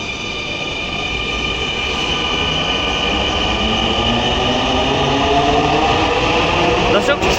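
Loud, steady rumble of a six-car metro train in Bangladesh running on the rails, with a whining tonal hum and a few wheel squeals near the end.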